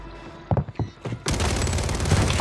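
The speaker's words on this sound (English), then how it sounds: "Oh, they shoot." Enemy gunfire in Warzone 3: a few scattered shots, then a dense, loud burst of continuous automatic fire close by that carries through to the end over game noise.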